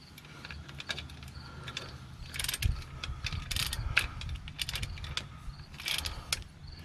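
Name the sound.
socket wrench with extension and swivel socket removing starter bolts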